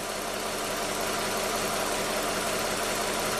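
A high-mileage Toyota engine with a lean fault idles steadily, a constant close, even hum and rumble with no change in speed and no voices.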